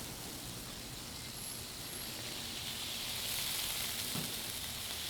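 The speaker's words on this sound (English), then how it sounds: "I'm gonna caramelize some onions here as well." Smash burgers and caramelizing onions sizzle steadily on a grill, a dense, continuous hiss that holds at an even level with no voices over it.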